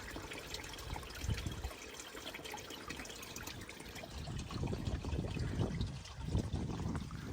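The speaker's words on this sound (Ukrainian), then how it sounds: "Водичка чиста, тут з двох джерел вона затікає." Spring water from two springs trickling and gurgling steadily into a bathing pool at Ostvytsia, a close continuous flow with occasional deeper splashes.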